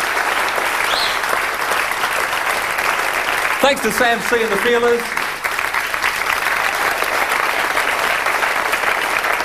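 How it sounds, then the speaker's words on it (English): Sustained studio audience applause fills the final episode of a live Australian television talk show, a dense even clatter throughout, with someone speaking over it briefly midway. "Give him a round of applause."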